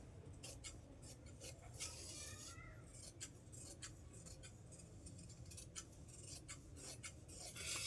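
Scissors cutting blouse fabric: a quiet series of short crisp snips and slides, irregular in rhythm, close by with a soft background hiss.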